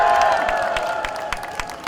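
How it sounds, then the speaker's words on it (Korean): A rally crowd in Sangnam-dong, Changwon, claps and cheers as presidential candidate Kim Moon-soo is welcomed, a loud outdoor mix of clapping and voices under a sustained held tone, with sharp individual claps popping through as the noise slowly eases. "큰 박수로 맞이해 주시기 바랍니다."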